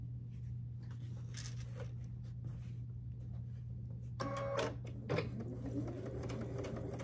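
A home sewing machine stitches a quarter-inch seam on a Churn Dash quilt block. Short bursts of fast mechanical whirring rise over a constant low electrical hum, with a louder run near the end.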